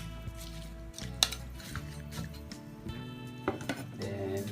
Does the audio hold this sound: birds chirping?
no